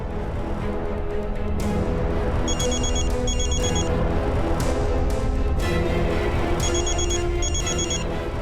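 A telephone ringing in repeated double bursts against a dense, busy background of music or ambience, with no talking.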